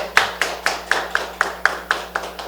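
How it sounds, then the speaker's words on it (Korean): Congregation in a Korean church worship service clapping in steady unison, about ten evenly spaced sharp claps at a brisk beat, clear and close with no talk. "박수해 주십시오."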